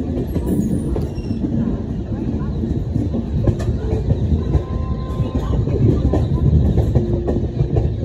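A passenger train runs steadily on the rails near Tundla station between Kanpur and Delhi, with a continuous loud rumble and rattling wheel noise throughout and faint squeals on top.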